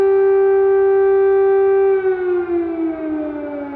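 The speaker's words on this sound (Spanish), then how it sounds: "Kiev despertó con el sonido de las sirenas antiaéreas" A loud, sustained air raid siren wail over Kyiv at dawn during the Russian invasion of Ukraine, holding one steady pitch, then slowly sliding downward and wavering.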